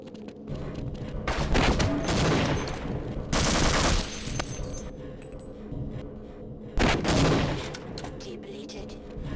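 Gunfire in the Half-Life game, with heavy bursts of rapid shots around two, four and seven seconds standing out against a steady backdrop of combat noise, loud and close.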